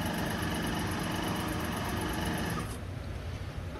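A Tormach 8L benchtop lathe runs a turning cut, giving a steady mechanical whir with a high whine that carries on without a break and then eases slightly near the end.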